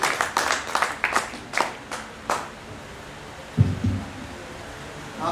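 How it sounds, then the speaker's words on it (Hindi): Audience clapping at a railway engineering institute's cultural evening in Pune as a speaker is welcomed, a burst of scattered claps that thins out within a few seconds, followed by a few low thumps. "तो आप जोरदार तालियों के साथ स्वागत करिए"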